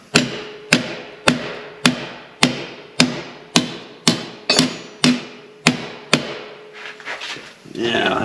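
A hammer strikes metal about a dozen times in an even, steady rhythm, stretching a slit rocker panel section on a car build; the blows ring sharply up close, then fade into faint shuffling and a voice.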